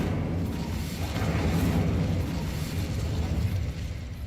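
In the Hogwarts Legacy video game, the Incendio fire spell releases a sustained, roaring whoosh of flame. The dense rumble fills the whole moment at close range.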